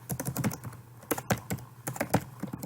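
Rapid bursts of keystrokes on a computer keyboard as a single word is typed, close and fairly loud, with short pauses between clusters of clicks and no talking.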